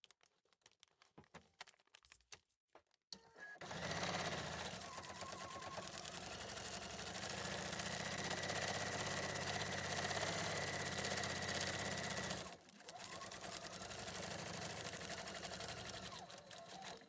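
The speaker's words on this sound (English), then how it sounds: "back over to the machine to do that final seam" A sewing machine stitches the final seam of a foundation-pieced Christmas tree quilt block, running in a loud, steady whir after some quiet handling sounds, with a brief pause near the end before it resumes.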